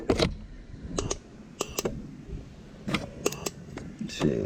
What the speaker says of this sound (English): You can hear the clicking of the injector and the air pressure going through.